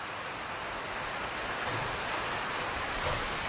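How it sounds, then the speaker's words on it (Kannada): Steady rain falls at night over a newly sown cotton field, an even, hissing wash of drops with no pauses, moderately loud and close. No voices. "ಸೊ ಅಂದ್ಕೊಂಡಂಗೆ ಮಳೆ ತುಂಬ ಚೆನ್ನಾಗಿದೆ"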